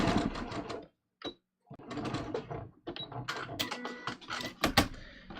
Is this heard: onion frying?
no